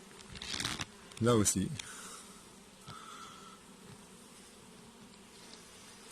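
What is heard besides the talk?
honeybees buzzing at hive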